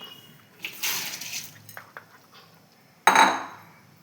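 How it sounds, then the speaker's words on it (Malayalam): Water is poured into a rice cooker's inner pot holding rice, a close splashing gush with metallic clinks of the pot and a second brief pour after a pause, no talking. "2 നാഴി അരിക്ക് 2 ലിറ്റർ വെള്ളം ഒഴിച്ച് കൊടുക്കുക"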